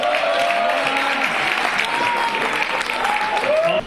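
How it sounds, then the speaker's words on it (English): An audience at a Buddhist convention prize announcement claps steadily throughout, a broad continuous patter of many hands, with a voice and crowd sounds over it. "Huge round of applause"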